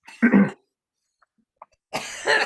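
A person coughs hard a couple of times up close, pauses in near silence, then coughs again in a rough, throaty burst.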